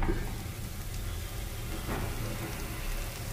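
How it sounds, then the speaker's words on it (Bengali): Bitter gourd and eggplant with cumin seeds fry in ghee with a continuous, even sizzle and soft crackle close by, and no one speaking. "সুতরাং উচ্ছে বেগুন ভাজা।"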